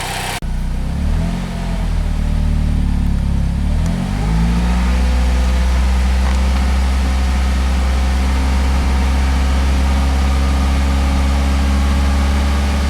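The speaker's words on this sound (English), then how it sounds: "I'm going to go ahead and rev it up to like 2000 RPM for a few minutes" A Saturn Sky's engine held at a raised, steady rev of about 2000 RPM, loud and close, after a brief low idle start, droning evenly without pause.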